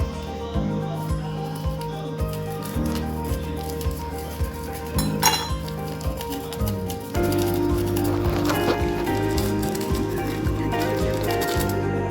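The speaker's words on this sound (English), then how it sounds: "And stir it until well blended." Holland lakker cake batter with flour, milk powder and vanilla powder being stirred in a bowl, giving soft wet squishing and occasional light clinks of the utensil against the dish, close by and continuous.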